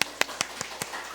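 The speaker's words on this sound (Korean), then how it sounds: "박수 한번." A few sharp claps ring out in a church hall during a Korean sermon at a men's mission service, six evenly spaced taps about a fifth of a second apart, clear and close over a quiet background.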